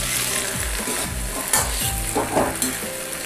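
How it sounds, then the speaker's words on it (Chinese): Soybean paste stir-frying in a hot wok with scallion, ginger and star anise, a steady loud sizzle broken by repeated scraping strokes of a spatula against the metal, no voices. "把酱炒香"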